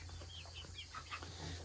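A hen clucks softly in a few short chirping bursts over a steady low farmyard hum, close by and not loud, near her nest while brooding.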